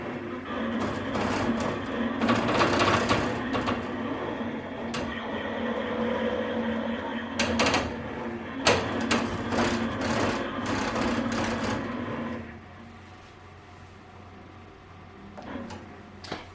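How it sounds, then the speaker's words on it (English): An embroidery machine traces a design outline ahead of stitching glitter heat-transfer vinyl, giving a steady mechanical whir with a low hum and intermittent clicks and ticks, then quieting near the end. "So we're just going to trace it, and it's going to show us where the design is going to stitch."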